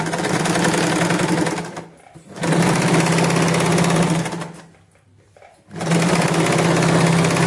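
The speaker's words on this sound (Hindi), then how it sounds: "और अब इस सिलाई को हम पॉकेट की सिलाई को कंप्लीट करेंगे।" A sewing machine stitches a palazzo pocket in loud, close, rapid whirring runs, stopping briefly twice before starting up again.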